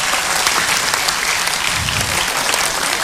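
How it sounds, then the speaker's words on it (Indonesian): A studio audience on the Indonesian reality show Penghuni Terakhir claps for the winners: dense, steady, loud applause filling the whole stretch with no pauses and no voices. "tepuk tangan dong untuk mereka"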